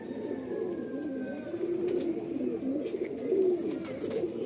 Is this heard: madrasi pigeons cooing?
yes